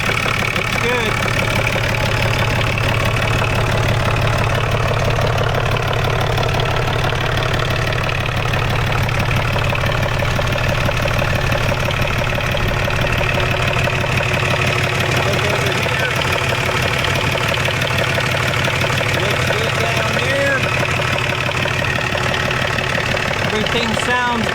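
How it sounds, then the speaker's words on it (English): A rebuilt John Deere 5300 tractor engine idles steadily and close by with a low, knocking rumble that holds for the whole stretch, while a voice speaks faintly beneath it. "We're going to let the tractor run a little bit."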